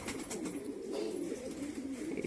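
Pet pigeons coo softly and continuously nearby, a low throaty warble with no talk over it.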